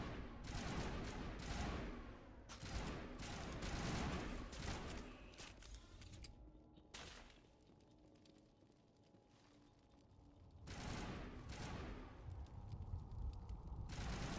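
Rapid gunfire in the sci-fi action RPG Mass Effect: dense bursts of automatic shots in the first half, a quieter lull with scattered mechanical sounds, then another sustained volley near the end, no talking.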